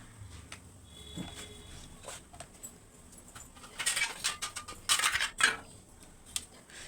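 Metal idli plates clink and clatter as they are handled in a kitchen, with light scattered taps early and then a busier burst of jangling metallic knocks, fairly faint and close.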